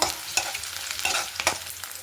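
Tomato gojju being stirred in a hot pan, with a steady frying sizzle and repeated scraping strokes of the spoon at close range, no talking.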